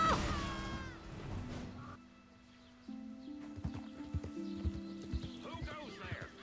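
In the video game Baldur's Gate II, a horse gives a loud whinny and then gallops with clattering hoofbeats, with people talking over it.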